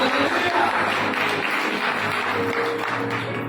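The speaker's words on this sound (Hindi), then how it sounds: "समाचार ताली बजा के प्रभु को महिमा दे सकते हैं" A church congregation claps together to glorify the Lord, a dense steady patter of many hands filling the room, with faint voices mixed in.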